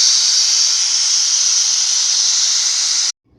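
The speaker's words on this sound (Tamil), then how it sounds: "இப்போ ஒரு விசில் வச்சு நான் எடுத்துக்கிட்டேன்" Pressure cooker whistle blasting steam while red rice cooks, a loud, steady high hiss held for about three seconds before cutting off abruptly into silence.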